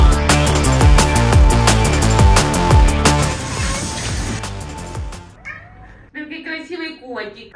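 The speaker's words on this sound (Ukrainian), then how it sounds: "Такий красивий котик." A cat meows in the second half, after loud rhythmic music with a steady beat fades out; the cries are close and come in several short bursts.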